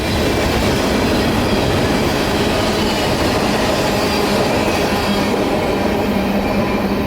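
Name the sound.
CSX local freight train with empty tanks, boxcars and phosphate loads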